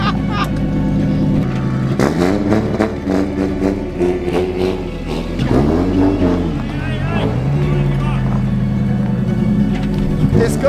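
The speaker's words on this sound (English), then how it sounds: "Put it in gear. That is one moving NASCAR." A 1JZ-engined NASCAR race car is put in gear and drives off, its engine rising and falling through several loud revs close by, with voices talking over it throughout.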